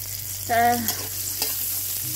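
Chopped onion and garlic frying in soybean oil in a pan, a close hissing sizzle with a brief tonal scrape as the pieces are stirred, no voices.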